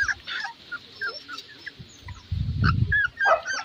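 Shih Tzu, Beagle and Golden Retriever puppies let out scattered thin whines and squeaks at moderate distance, with a low rumbling thump midway and no speech.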